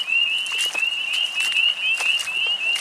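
A chorus of little peat frogs rings out fairly close and clear, a sustained high trill with brief pulsing chirps laid over it, and no talking.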